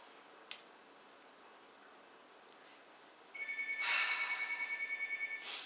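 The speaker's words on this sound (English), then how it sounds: "My phone is ringing" A phone rings after a single sharp snap-like click, its electronic trill repeating in steady pulses for about two seconds at moderate loudness over a quiet background.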